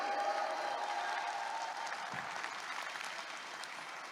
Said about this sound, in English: Can we give RIWAY a round of applause today?